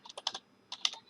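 Typing on a computer keyboard: two quick clusters of crisp key clicks, close and fairly quiet, separated by a short pause.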